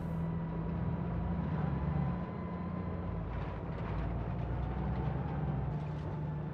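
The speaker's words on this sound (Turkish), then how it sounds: "Sanki bir elektrikli araba sürüyormuşum gibi." Engine drone of a bus in the BeamNG.Drive driving game, crossing a muddy dirt road: a steady, continuous low hum with a faint higher whine, fairly loud and unbroken throughout, with no speech over it.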